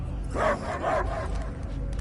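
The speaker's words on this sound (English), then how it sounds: "I hear only barking." Dog barking in the Guardians of the Galaxy video game, a few sharp yips and barks close up over a steady game background hum.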